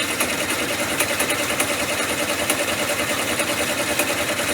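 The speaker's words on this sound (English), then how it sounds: "go ahead and stitch that. It is doing a back stitch." An embroidery machine runs a back stitch, a steady dense mechanical whirr with rapid regular needle pulses, close and continuous throughout with no voices.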